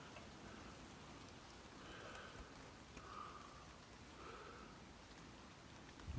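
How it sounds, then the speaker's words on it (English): Steady soft rain falling in a garden, a faint continuous patter and hiss with no voices. "A bit of shelter from the rain"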